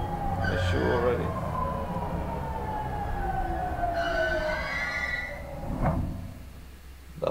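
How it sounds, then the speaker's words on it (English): Train arriving in the Stray video game, a loud sustained rumble with falling, siren-like tones and screeching pitches that fade toward the end. "Well, the train came."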